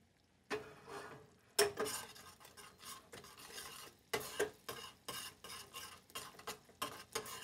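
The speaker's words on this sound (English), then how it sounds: "And I am going to have to give it a little stir for this." A spoon stirs food colouring into cookie icing in a steady run of short, close scraping strokes, about a dozen, with no one speaking.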